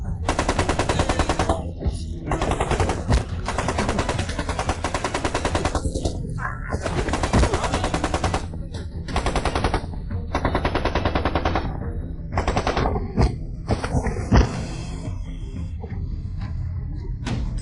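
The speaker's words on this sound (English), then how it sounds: "Indiscriminate firing." A Gatling gun fires long, relentless bursts at close range, loud and nearly continuous with brief gaps and heavy thuds between volleys, as a drama battle sound effect.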